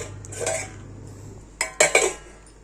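Dishes and pots clatter and clink close by, a soft knock followed by a quick burst of sharp metallic clanks near the end.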